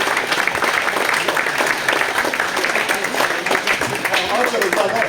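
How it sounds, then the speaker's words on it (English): Applause from a crowd of car enthusiasts at the Shelsley Walsh hill climb, a sustained patter of many hands clapping at moderate loudness with murmuring voices mixed underneath. "So give all of yourselves a round of applause,"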